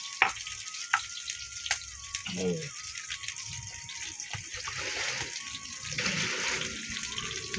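Onions and chillies frying in a pan for a hilsa fish and papaya curry, a steady hissing sizzle under someone talking throughout, with occasional clinks of a utensil.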